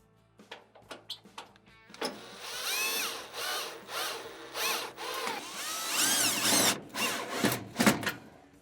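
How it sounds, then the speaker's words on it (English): Cordless power drill driving four screws into the manifold of a Whirlpool stove during a burner valve repair, several short whirring bursts followed by longer sustained runs with rising pitch as each screw seats, close and fairly quiet. "And we're going to install our 4 screws that hold our manifold on."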